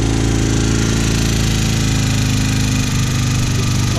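Project motorcycle engine idling just after starting, a steady loud rumbling drone that holds without break and stands alone with no talk.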